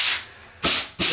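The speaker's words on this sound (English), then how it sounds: "I'm just going to detail it with the sanding sponge" Three short scratchy strokes of hand sanding on drywall with a sanding sponge, each a dry rasping rub separated by brief pauses.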